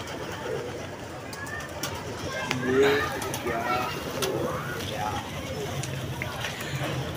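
Pigeons, including newly bought lace pigeons, coo softly at a dealer's loft amid outdoor chatter and background noise, with a clearer brief call near the middle.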